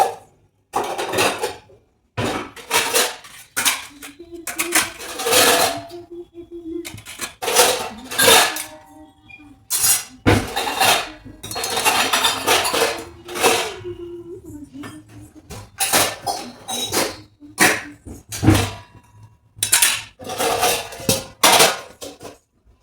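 Dishes and a pressure cooker being washed and scrubbed in a village home, with repeated clanks and clinks of metal utensils in bursts, close by and fairly loud, separated by short pauses.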